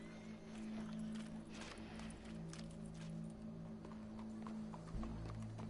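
Horse hooves clip-clop at a steady walking rhythm in the Red Dead video game, moderately close over a low ambient hum, with no talking.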